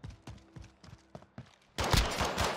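Rapid bursts of gunfire from Call of Duty: Modern Warfare's Gunfight mode crack in a quick sequence, ending in a louder, sustained volley of shots.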